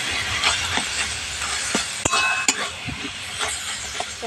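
Taro leaves with chickpeas are stirred in a pan, giving a steady soft sizzle with scraping and occasional sharp clinks of the utensil against the pan, close and alone.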